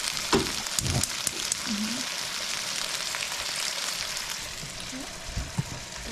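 Salmon fries skin-side down in a pan with a constant crackling sizzle, broken by small pops and faint clinks; a voice speaks briefly underneath.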